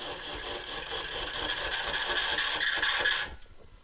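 Gnarly crotch wood turns on a slowly running lathe, the gouge peeling off shavings in a steady, rough rasping scrape that cuts out abruptly near the end.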